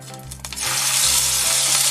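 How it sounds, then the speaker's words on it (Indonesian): A baso aci filling is sautéed in hot oil. A loud, close sizzle bursts in after a brief quiet moment and then hisses steadily. "ini kita akan menumis isiannya ya"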